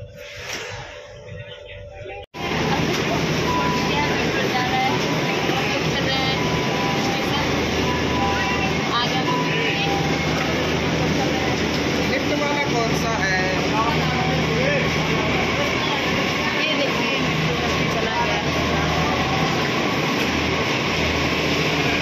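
A steady, loud rumble fills the inside of a moving Delhi metro train, a dense continuous roar of wheels and motors that starts abruptly and holds unbroken, with voices faintly mixed underneath.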